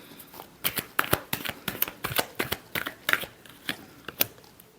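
Tarot cards are shuffled by hand in a quick series of crisp, riffling slaps and flutters, close and fairly clear.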